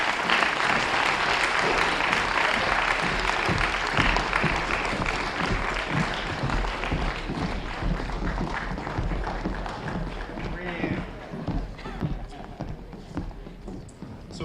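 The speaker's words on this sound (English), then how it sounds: "If we can just give a round of applause, great job." A crowd at a school speech night claps loudly and steadily for a speech and debate team, the applause holding strong before gradually thinning out toward the end.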